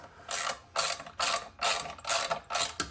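A ratchet clicks in six quick, close bursts as it tightens skid plate bolts on a 2024 Kawasaki KLX 300, with short pauses between strokes and no talk.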